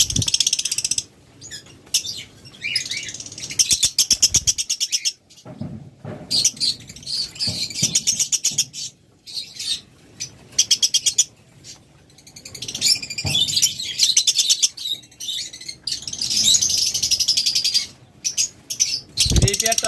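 A pair of green opaline lovebirds chirps in rapid bursts of sharp, high tweets, with busy cage rattling and clicking between the calls and faint voices in the background.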